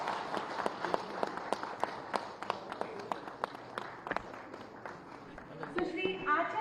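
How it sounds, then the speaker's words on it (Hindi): Audience at the opening ceremony of a handicraft exhibition claps in welcome, a sparse, fairly quiet patter of individual claps with a brief louder stir of voices and movement at the end. "आप सभी की जोरदार तालियां स्वागत है।"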